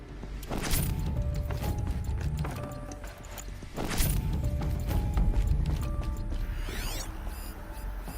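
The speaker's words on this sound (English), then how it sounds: "Maybe there's a way to power up the mechanism, release the clamps." A video game door clamp mechanism releases with heavy metallic ratcheting and clanking gear movement. Two loud thuds are separated by a few seconds, and a whirring sweep follows.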